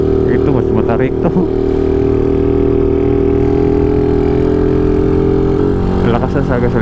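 Motorcycle engine fitted with an enlarged carburetor laboring up a steep mountain road, a steady loud mid-pitched drone with a faint rise near the end.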